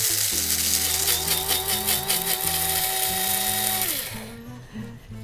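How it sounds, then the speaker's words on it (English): A small electric spice grinder whirs loudly as it pulverizes annatto seeds, its motor pitch wavering with rattling seeds before spinning down and cutting off near the end. "I'm going to put the annatto seeds in the little spice grinder here."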